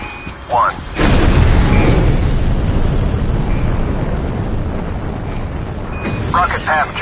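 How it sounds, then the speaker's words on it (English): An extraction rocket launches in a zombies-mode video game: a loud, broad roar bursts in after a second and holds steady for about five seconds, easing slightly toward the end, with brief electronic chirps at the start and finish. "Extraction rocket cleared for launch. Launch sequence in progress."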